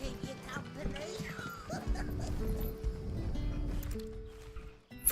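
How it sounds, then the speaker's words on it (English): A dog in Final Fantasy XVI gives a few short barks and yips, then whimpers and whines, heard fairly close over a bed of game music and ambience. "Freaking dog."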